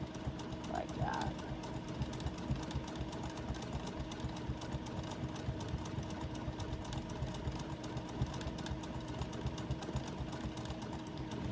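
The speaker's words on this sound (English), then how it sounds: "I'm just going to go over on top of it and do a little bit of stitching here." A sewing machine stitches over fabric during thread painting, running in a fast steady mechanical whir that stays fairly faint and continuous throughout, with no talking over it.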